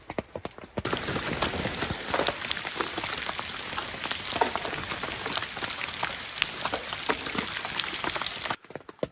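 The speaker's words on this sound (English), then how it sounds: "It is still drizzling rain." Light drizzle patters steadily on a tent in the East Texas woods, a dense crackle of small drops close by, continuous for several seconds before stopping abruptly.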